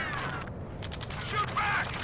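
Dense rattling automatic gunfire from a combat scene in the video game Ace Combat 7, steady and loud under radio chatter and shouted voices, with a burst of higher crackle near the end.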